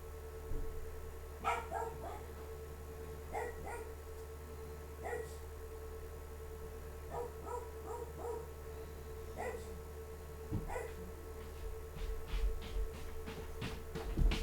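Dogs indoors bark in short, scattered yips and whimpers, spaced a few seconds apart over a low steady household hum, faint and somewhat distant, with a cluster of quicker barks toward the end.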